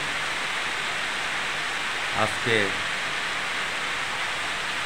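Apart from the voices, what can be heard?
heavy rain falling at night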